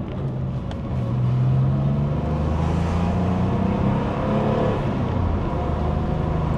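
An older Porsche 911 3.2, heard from inside, hums with a steady engine drone whose pitch climbs and falls gently as the revs change.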